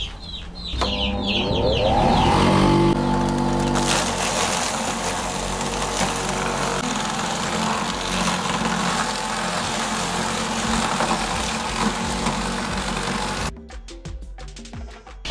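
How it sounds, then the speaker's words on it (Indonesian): Mechanical chopper machine shredding poultry feed, a loud continuous grinding roar with a rising motor whine at startup, running steadily before cutting off near the end, chickens clucking in the background. "menggunakan mesin pencacah mekanik seperti ini"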